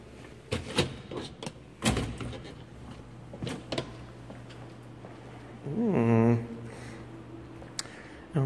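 Doors at a museum exhibit open and swing through, giving several sharp clunks and latch knocks close by. Footsteps and a brief voice follow amid room ambience.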